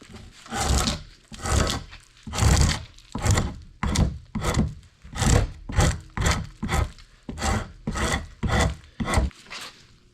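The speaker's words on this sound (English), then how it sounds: "I'm using one of Lumberjack's draw knives as well." A draw knife shaves a clamped wooden log in a workshop, giving a steady run of about fourteen loud, rasping strokes at a regular rhythm, close up with no talk.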